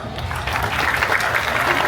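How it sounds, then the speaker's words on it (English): A crowd at the Orange County Fair in Costa Mesa claps together during a race, dense steady applause filling the space, fairly loud and continuous, with a voice faintly underneath. "Good claps, good claps."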